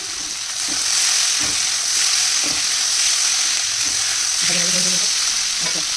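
Cut green chilies frying in a pan, with a loud, steady sizzle close up and a few soft stirring knocks mixed in.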